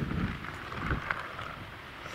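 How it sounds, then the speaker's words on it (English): Wind gusts buffeting the microphone at a wild camp in Scotland, a loud continuous roar with rumbling surges that rise and fall, heard alone without any talking. "Look at the wind on him."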